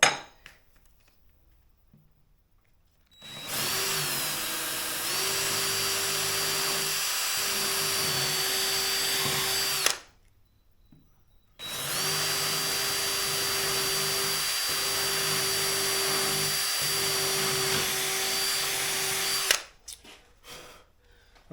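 A drill bores a 3/16-inch pilot hole through a part marked out from an upper bearing template, two long steady whining bursts of roughly six and eight seconds separated by a short pause, loud and close with no talk.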